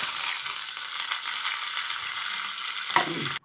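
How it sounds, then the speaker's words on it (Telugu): Tempering of chana dal, mustard seeds and curry leaves crackles and sizzles in hot oil with a constant hiss, a faint scrape of stirring near the end. "కొంచెం నూనె వేసుకొని మనం తాలింపు గింజలన్నీ వేపుకోవాలన్నమాట"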